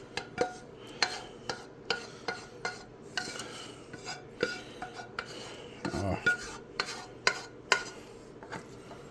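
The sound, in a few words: scooping cheesy potatoes into a greased dish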